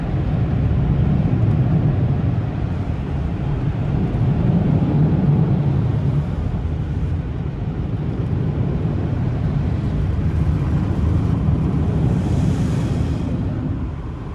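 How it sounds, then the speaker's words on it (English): A loud, steady roar of several leaf blowers drones on without pause, a deep rushing noise filling the whole stretch, close by and with no speech. "Got all the leaf blowers going."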